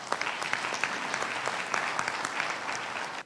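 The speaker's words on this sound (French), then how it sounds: "Je vous invite à l'applaudir." Audience applause at a formal ceremony in Togo promoting women's rights, dense steady clapping from a crowd at moderate distance, holding evenly before stopping abruptly.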